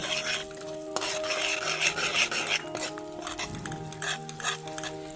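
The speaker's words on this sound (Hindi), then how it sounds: "घी गर्म हो गया, इसके अंदर मैं ये पीसी हुई बूंदे शामिल कर दूँ।" Ground boondi is stirred into hot ghee for panjiri, a metal spoon scraping and clinking against the pan in quick repeated strokes over a soft sizzle, close and continuous.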